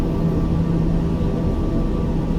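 Black Square TBM 850 turboprop in flight in Microsoft Flight Simulator, a loud, steady cabin drone of engine and airflow with no talking.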